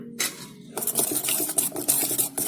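Ragi and maida flour being stirred with thick curd in a bowl, a spoon scraping and clinking against the sides in quick, uneven strokes, close and fairly loud, after a brief quiet start.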